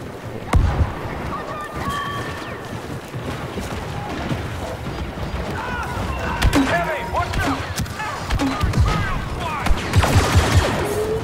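Blaster gunfire barrage in the Star Wars Battlefront 2 campaign, dense overlapping shots and explosions in a constant loud battle din with shouted voices mixed in.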